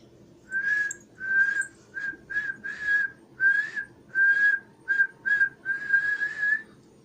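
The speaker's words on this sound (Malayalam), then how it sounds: "ആരാ അവിടെ ചൂളം പഠിക്കുന്നത്" A person whistles a short tune close by, about a dozen clear, evenly spaced notes and phrases with brief pauses between, alone without other sound.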